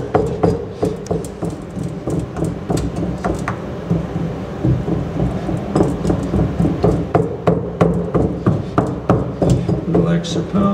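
Repeated thuds of casting sand being rammed into a foundry mould, a steady series of close, dull pounding blows with faint talk in the background.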